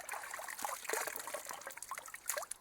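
Water trickles and splashes in an outdoor puddle as someone washes in it, a steady, close dribbling with small irregular splashes throughout.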